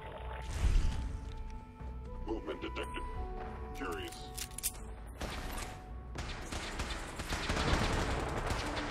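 Gunfire and impacts sound in the modded Fallout 4 survival game, with scattered shots, crashes and whooshing effects of moderate loudness mixed with electronic tones, and a voice heard along with the action.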